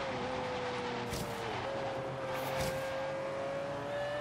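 Lamborghini Aventador LP750-4 SV V12 in Forza Horizon 3, a steady high engine drone held at speed, with a couple of brief bursts of wind or impact noise.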